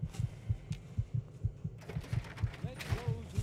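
Steady thumping heartbeat in the video game Fallout 3, a low double-pulse repeating about three times per second, with game sounds and a faint voice over it in the latter half.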